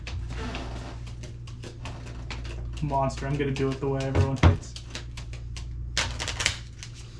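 A deck of game cards is riffled and shuffled at a tabletop wargame table, with a rapid burst of flapping card clicks partway through, mixed with the clatter of other table handling under steady room hum while players talk throughout.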